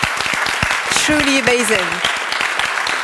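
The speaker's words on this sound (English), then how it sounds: "I just want to give you all a round of applause." Audience applause fills an awards ceremony plenary at a women's economic forum, steady and loud, while a speaker's voice talks over the clapping.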